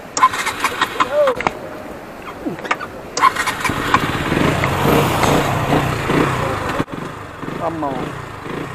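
A KTM RC 125 motorcycle engine starts and revs on a test ride, a few sharp blips and a sustained rising roar mid-clip, with intermittent talking and handling noise around it.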